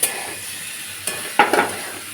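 Potatoes being stirred in a pan of cooked-down spice paste, with a soft continuous sizzle and a few scraping strokes of the spoon near the end.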